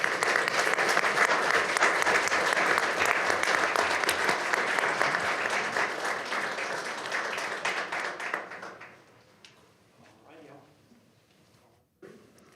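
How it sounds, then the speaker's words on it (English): An audience at a city council meeting breaks into a sustained round of applause, loud and dense for about eight seconds, then fading out into scattered voices and room noise. "Let's give them a round of applause, please."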